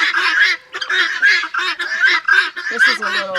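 Loud, harsh honking bird calls repeat in quick bursts, several birds squawking over one another up close.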